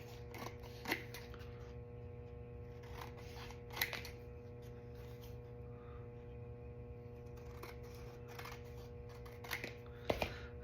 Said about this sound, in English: So I'm just gonna cut probably about a 1/2 inch.